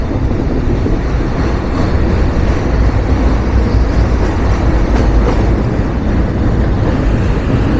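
Chitra Express train running onto the century-old British-era Ghatina railway bridge over the Bangali river in Ullapara, Sirajganj, heard from on board as a loud, steady rumbling roar with faint rhythmic wheel clatter.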